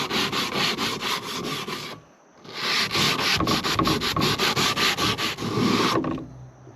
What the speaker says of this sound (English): I'm gonna take some old sandpaper and just sand that off real quick